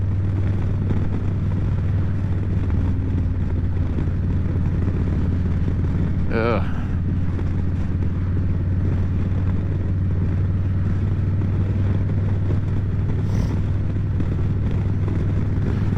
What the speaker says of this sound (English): this Lowrider ST is just a blast. It's so comfortable, so fun to ride.